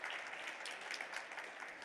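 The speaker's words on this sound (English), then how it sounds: "sure, give him applause." An audience at a Newark civic gathering applauds, a brief, moderately quiet patter of clapping that holds steady without any speech on top.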